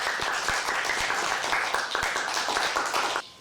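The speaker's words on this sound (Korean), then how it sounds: "여러분 박수로 마루아 씨를 환영해 주시겠습니까?" An audience at a Korean speaking contest for foreign workers claps to welcome a contestant from Bangladesh, dense, even applause from a crowd that holds steady and then cuts off abruptly near the end.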